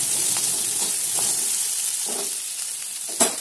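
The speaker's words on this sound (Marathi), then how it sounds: "आता यात थोडंसं हळद टाकायचं. त्याला एक छान द्यायचं. हळदीचा कच्चेपणा गेला एवढं परतायचं." Turmeric being sautéed in a pan while vermicelli upma is cooked gives a steady, close sizzle with faint scrapes of stirring, and a sharper clatter near the end, with no talking.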